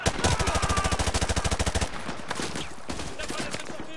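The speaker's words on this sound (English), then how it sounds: "We are taking heavy fire from the school!" Heavy automatic gunfire in a Call of Duty Modern Warfare 2 school battle, a loud rapid burst of evenly spaced shots for nearly two seconds, then fading into quieter scattered combat noise.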